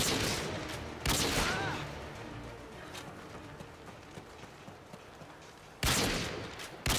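Gunshots in Modern Warfare 2, a loud crack opening the stretch and two more sharp bursts near the end, with quieter game ambience between.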